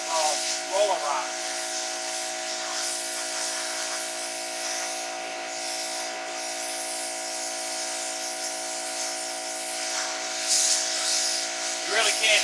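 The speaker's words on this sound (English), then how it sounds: "You really can't do it without a pressure washer." A pressure washer sprays and hisses steadily while cleaning front steps at a farmhouse, a continuous close high spray with a constant hum beneath it and brief surges.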